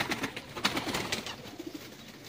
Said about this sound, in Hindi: फकीर गुल कबूतर का है मौजूद जी